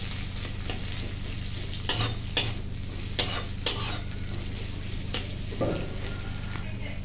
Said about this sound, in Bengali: দেখো পেঁয়াজটা ভাজা হয়ে গেলো।